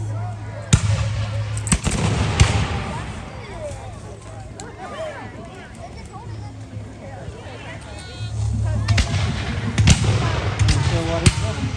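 Cannon fire at a Guilford Courthouse battle reenactment: several sharp booming reports, a couple close together early and more near the end, ring out over a steady engine hum and crowd noise.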